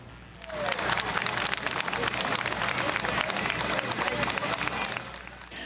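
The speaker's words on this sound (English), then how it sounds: "A wave of relief, clapping and cheering through the crowd as 2-year-old Mayana Moore was pulled to safety." Outdoor crowd clapping and cheering as a 2-year-old girl is pulled from a cistern, a continuous dense patter of many hands with voices mixed in, moderately distant and steady throughout.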